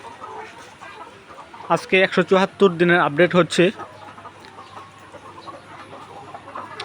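A flock of 174-day-old laying hens clucks in a short cluster of bright, choppy calls near the middle, with someone speaking over them against a quiet background hum.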